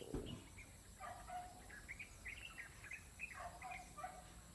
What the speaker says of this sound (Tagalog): Daming ibon.